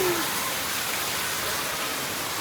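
Steady rain pours down in Uttara Karnataka, a dense, even hiss that fills the space from start to finish with no distinct drops standing out.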